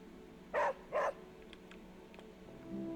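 Two quick barks from a dog in a video game, with a short pause between them, fairly close and clear over quiet background hum, followed by faint scattered ticks.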